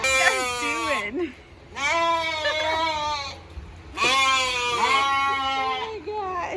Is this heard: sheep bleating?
yes